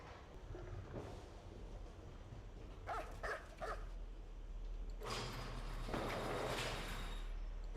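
A dog in the Still Life video game barks and yips in short bursts over a low background hum, moderately distant and not loud.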